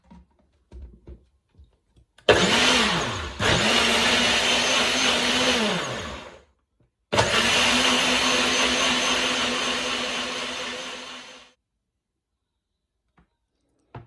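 A blender whirs to beat a healthy cheesecake batter sweetened with erythritol, in two loud sustained runs of several seconds each, the first pitch dipping under load, separated by a short pause, with small clicks before and after.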